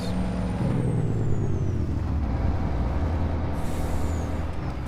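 A truck's engine brake roars steadily during a wheat harvest, a loud, rumbling drone from close by with a faint falling whine above it.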